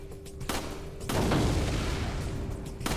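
Resident Evil 4 gameplay: a loud explosion and bursts of gunfire boom out in quick succession, with sharp cracks at the start and end and a sustained rumbling roar through the middle, no talk.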